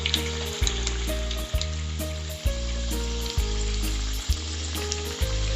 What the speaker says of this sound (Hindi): इसे हम मीडियम टू लो के बीच में फ्राई करेंगे और इस तरह से हम इस पर धीरे धीरे ये कटलेट्स डाल देंगे